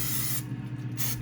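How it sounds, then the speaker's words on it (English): Olive oil spray misted onto raw chicken breast for the air fryer, two short hissing bursts separated by a brief pause, close and fairly soft. "I'm gonna spray my chicken with some olive oil spray"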